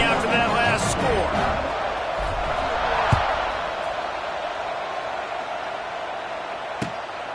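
Stadium crowd in a Madden football video game, a steady broadband buzz sustained throughout after a score, with a couple of brief sharp knocks and commentary-style talk faintly present.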